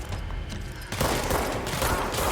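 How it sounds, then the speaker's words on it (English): Shotgun blasts and gunfire in the video game Control, a dense, loud barrage of booming shots. It thickens and gets louder about a second in and keeps going to the end. "I do like a good shotgun"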